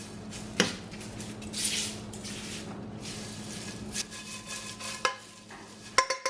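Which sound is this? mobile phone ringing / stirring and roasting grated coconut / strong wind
stirring and roasting grated coconut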